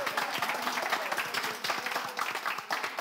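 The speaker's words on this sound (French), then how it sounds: "Applaudissements, s'il vous plaît." An audience applauds with dense, sustained clapping that lasts the whole stretch at moderate loudness.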